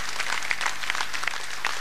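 Audience applause at a 2004 televised Hari Raya concert, a steady dense clapping from a crowd, even and sustained through the short stretch.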